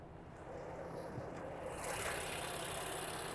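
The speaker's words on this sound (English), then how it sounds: "So this engine is pretty noisy." Engine of a 2015 BMW M4 with a DINAN Stage 2 package runs at a steady idle, quiet and even, with noisy injectors ticking.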